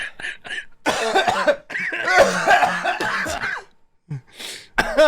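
Several harsh coughs and throat-clearing bursts come in quick clusters, loud and close, with short pauses between them.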